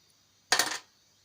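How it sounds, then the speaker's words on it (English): Pliers snip a short piece off copper wire being shaped into a ring, giving a single quick metallic clip with a faint jingle, close and fairly quiet. "Pair of pliers. You want to cut this pretty short."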